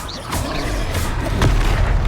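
Fiery Confringo blasting spell explosions in Hogwarts Legacy, fought against a troll in Hogsmeade: a dense, loud roar of bursts and booms fills the whole moment with no pause.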